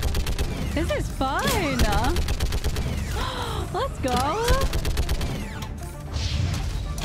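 Rapid turret gunfire in Mass Effect 3 rattles steadily in fast repeated bursts, moderately loud, while a player talks and exclaims excitedly over the shooting.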